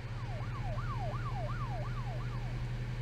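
A police siren in the video game Her Story, a wailing tone rising and falling in a steady repeating cycle over a constant low hum, alone without talk.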